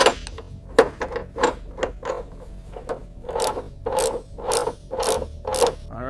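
A ratchet wrench applying torque while working on a car, giving a close series of quick clicking and rasping strokes in uneven bursts, with no one talking.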